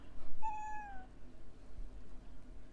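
A single clear cat meow in a video game, starting at a higher pitch then sliding downward and fading, heard alone over a low background hum with no talking.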